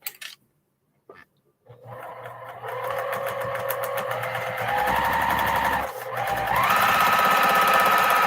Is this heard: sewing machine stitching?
yes